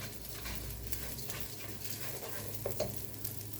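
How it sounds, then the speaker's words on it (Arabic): Washed Egyptian rice being stirred in hot fat in a pan, a steady close sizzle with faint scraping of the spoon, continuous and without talk. "هشوح الرز كويس في المادة الدهنية لحد ما الرز كله يتغلف بيها بالشكل ده"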